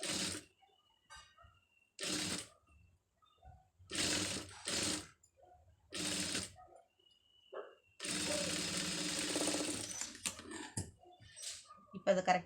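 A sewing machine stitching a pom pom design runs in repeated short bursts of rapid mechanical whirring, separated by quiet pauses, ending with one longer continuous run.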